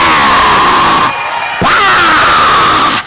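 A church congregation rises and shouts together during a French-language worship service, a loud sustained crowd roar with whoops and yells, briefly dipping before swelling again.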